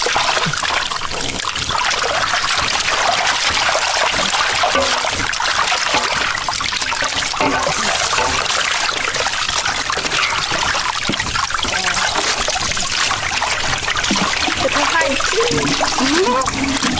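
Steady running tap water splashing over a peeled water snake being washed clean, a continuous close trickle and splatter with faint voices in the background.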